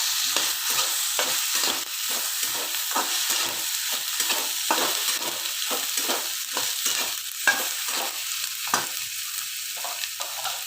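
Boiled, mashed potatoes and chopped tomato fry with salt in a pan for fasting sabudana khichdi, a steady sizzle broken by close, rhythmic scraping stirs of the spoon throughout.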